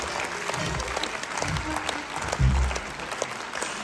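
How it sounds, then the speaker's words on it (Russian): A concert audience at a New Year's solo show breaks into steady, dense applause, the clapping sustained and close with a few brief swells, while a voice speaks over it. "Это вот очень уважаемый человек, похлопаем."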